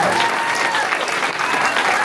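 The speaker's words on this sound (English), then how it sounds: "Let's all give these guys a round of applause." Loud audience applause for candidates at a candidates night, a dense continuous burst of clapping close by that lasts about two seconds.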